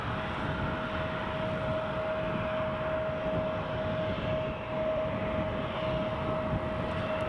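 An Eastern Airways airliner rushing down the runway at Newcastle Airport, a steady broad roar of jet engines with a constant high whine, heard from a distance with no talk.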